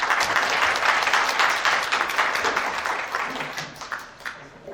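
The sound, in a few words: audience applause welcoming the chairman to the stage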